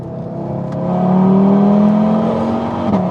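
An Audi TT RS with a Quattro drive system powers out of a corner, its engine note climbing into a loud, steady rising drone before easing off near the end, close and without talk.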